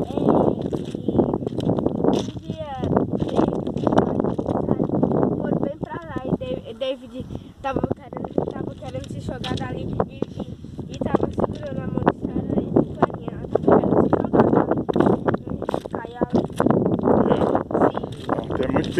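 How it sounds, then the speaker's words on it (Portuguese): Strong wind gusting across open caatinga terrain beside an abandoned Transnordestina railway construction site near Salgueiro, Pernambuco, a steady broadband rush buffeting the microphone throughout while people talk over it. "A ventania é muito forte."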